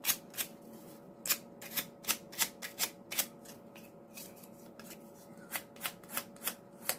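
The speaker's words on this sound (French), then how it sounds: "Petit coup de papier de verre ici." Sandpaper rubbed over a small miniature dollhouse part from a Mystic Garden kit, giving a series of short, dry scraping strokes in an uneven rhythm, close up, with no talking.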